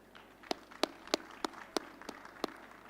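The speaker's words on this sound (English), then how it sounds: "please join me in a round of applause for our panel members." Sparse clapping at a conference panel on directed energy and hypersonics, about eight distinct, evenly spaced hand claps, fairly quiet, as if from a single person or a small, thin audience.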